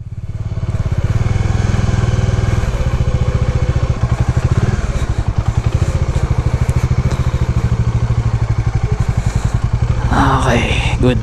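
A big bike motorcycle rumbles loudly and steadily at idle while being parked at a rainy campsite in Tanay, a close, throbbing engine that runs throughout with brief clatter near the end.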